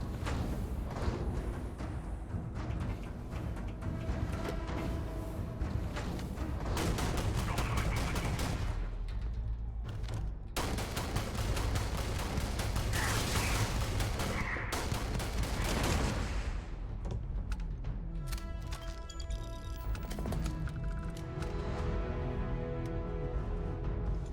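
Sustained gunfire in the shooter Starfield on PC, with dense bursts of shots layered over a continuous loud game soundscape and a brief dropout around ten seconds in.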